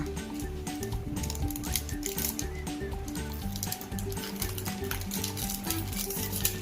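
Plastic toy packaging is torn and ripped open up close, giving a busy, continuous crackling and crinkling rustle of fairly quiet irregular bursts.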